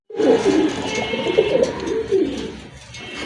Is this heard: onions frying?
no